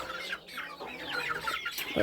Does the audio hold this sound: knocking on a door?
no